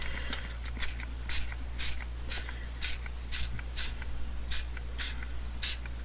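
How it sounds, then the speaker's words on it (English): An aerosol spray paint can hisses in a steady series of short bursts, about two per second, close by over a low constant hum. "And then we can spray it and set it aside."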